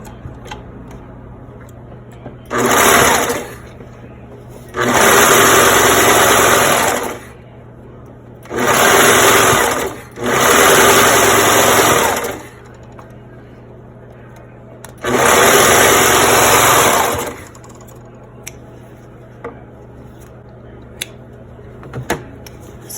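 A sewing machine stitches a fabric face mask in five loud, close bursts of rapid whirring, each lasting one to three seconds, separated by quiet pauses.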